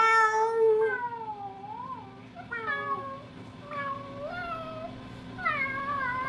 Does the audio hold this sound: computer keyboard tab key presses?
no